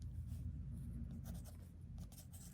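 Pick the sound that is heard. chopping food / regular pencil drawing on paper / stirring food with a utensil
regular pencil drawing on paper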